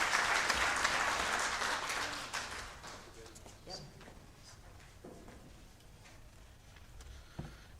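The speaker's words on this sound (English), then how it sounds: "Please join me in thanking her once again with another round of applause." A room full of people at a conference claps loudly, the applause swelling at first and then thinning out to scattered claps before fading.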